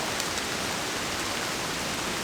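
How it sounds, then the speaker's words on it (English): Rain beginning to fall in woodland, a steady broadband hiss of drops on leaves that stays even and close throughout, with no voices. "It's now starting to rain"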